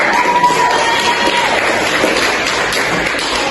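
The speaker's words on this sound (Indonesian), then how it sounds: "Berikan tepuk tangan untuk kita semua." A fourth-grade class in a teaching simulation claps together, giving a loud, continuous wash of many small hands for a few seconds with no clear gaps.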